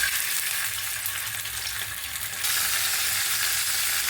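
Bata fish, freshly caught from a pond, frying in hot oil in a pan, giving a steady close crackling sizzle that grows slightly louder and brighter halfway through, with no voices.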